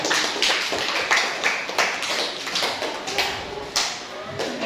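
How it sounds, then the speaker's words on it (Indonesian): An audience at a school presentation on sustainable living and planting claps steadily for several seconds, a dense patter of moderately loud hand claps with a few sharper strikes. "berikan tepuk tangan yang meriah"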